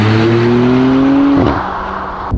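A Porsche Cayenne GTS with a 440 hp V6 engine sounds loud and close, its steady drone easing in pitch before a quick shift-like break and a lower, quieter running tone.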